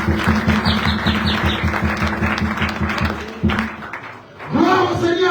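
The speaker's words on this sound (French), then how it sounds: "Acclamez pour le Seigneur." A church congregation claps in steady rhythmic unison for several seconds, loud and close, with a crowd of voices acclaiming over it before the clapping breaks off and cheering voices rise.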